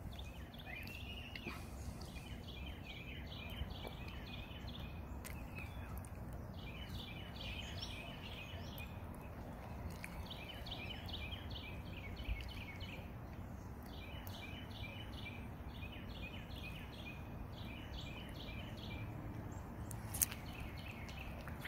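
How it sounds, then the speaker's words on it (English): Birds chirp outdoors in Williamson, West Virginia, with repeated high trills and short tweets throughout, faint against a low steady background rumble. "Your birds chirping."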